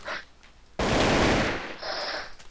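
AK rifle firing in a modded video game, a single sustained loud burst of rapid automatic gunfire lasting under a second, then a quieter tail.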